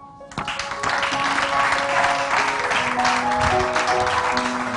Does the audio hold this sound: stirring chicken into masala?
no